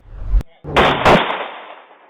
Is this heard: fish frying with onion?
no